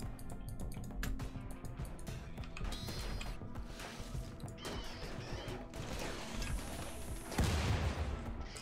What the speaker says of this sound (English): Gotta love those turrets for softening up entire squads of enemies.